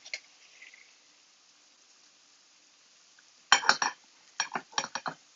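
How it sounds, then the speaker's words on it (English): A knife cuts a couple of slices from a loaf of bread, several short crisp sawing strokes in quick succession after a quiet pause, close and without talk. "let me cut one of these, couple of slices here with the other knife"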